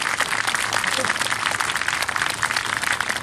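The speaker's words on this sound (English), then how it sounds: "And we'll give them a round of applause." Applause from a school assembly crowd for a first grade class as they start a memorial walk, a steady dense patter of many hands across the whole stretch, with voices mixed into the noise.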